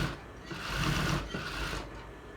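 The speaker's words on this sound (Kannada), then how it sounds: "ನೋಡಿ ಸ್ನೇಹಿತರೆ, ಇದಕ್ಕೆ ಇನ್ನೊಂದು ಸ್ಟಿಚ್ ಬಿಡ್ತಾ ಇದ್ದೀನಿ." A sewing machine runs a short stitch on a blouse, a low motor whir that rises and eases over a couple of seconds, heard close with no talking.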